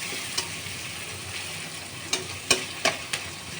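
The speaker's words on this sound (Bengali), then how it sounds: "এবার সব কিছু একবার একটু নেড়ে চেড়ে ভেজে নেব।" Green beans and shrimp fry together in a pan for a Bengali bean stir-fry, a loud continuous sizzle broken by several sharp scraping strokes as a spatula stirs them near the microphone.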